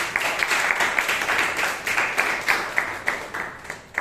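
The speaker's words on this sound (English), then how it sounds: "Let's give a huge round of applause" A Toastmasters meeting audience in Bangalore gives a round of applause, dense steady clapping close and loud with individual sharp claps standing out throughout, no talking over it.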